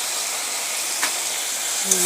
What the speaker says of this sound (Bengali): মশলাটা কষিয়ে নেবো ভালো করে, একটু ভাজা ভাজা হবে